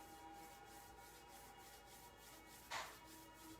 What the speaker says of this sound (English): Rubbing our hands together.